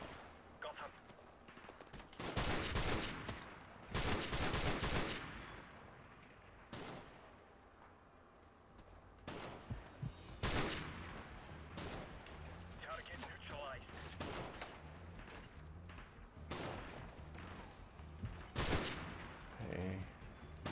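Rapid bursts of gunfire crackle through a Call of Duty 4: Modern Warfare Remastered campaign battle on PlayStation 4, with sharp, clustered volleys and scattered single shots over a busy background while a player talks.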